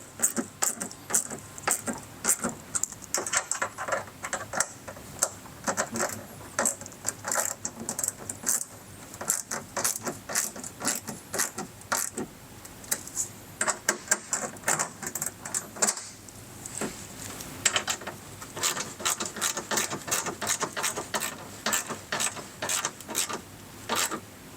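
Screws are tightened on a mud flap of a 2024 Toyota Tacoma with a power driver, making dense, rapid mechanical clicking and ratcheting bursts close by that continue almost without pause.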